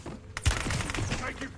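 Gunfire in Call of Duty Warzone on the Verdansk map, a short burst of shots with a sharp thump near the start, heard under game noise while a player's voice speaks over it.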